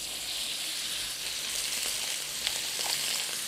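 A US beef fillet tenderloin sizzles and fries steadily in a pan, a continuous bright hiss with small pops, close and fairly quiet, with no talking.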